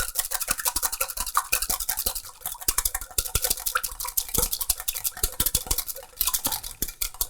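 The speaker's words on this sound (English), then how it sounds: "Give it a whisk. To bring it all together." A whisk beating salad dressing seasoned with half a teaspoon each of salt and pepper in a bowl, a steady rapid rattle of quick metallic taps against the bowl, close and continuous.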